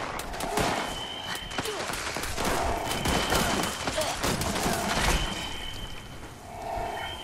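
A turret gun firing nonstop in the Fallout 76 video game, a dense rattling barrage of rapid shots that holds steady and loud throughout.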